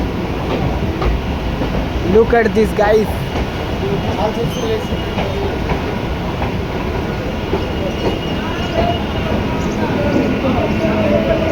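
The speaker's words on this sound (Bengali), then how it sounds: "আমাদের ট্রেন যাচ্ছে হাওড়া ব্রিজের নিচ দিয়ে" A passenger train rolls under Howrah Bridge in Kolkata, its steady rumble and rattling wheels filling the carriage from inside while a person speaks briefly over the noise.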